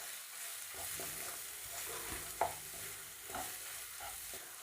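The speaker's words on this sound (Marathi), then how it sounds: "हे सगळे मसाले वाटणासोबत तेलात चांगले परतून घ्यायचे आहेत" Spices and ground masala paste being sautéed in oil for a green moong amti, with a steady soft sizzle and occasional stirring scrapes and clinks close by, no talking.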